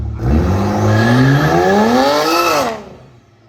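A BMW E92 335i engine revs hard nearby, its pitch climbing steadily with a rising turbo whine before cutting off abruptly and fading.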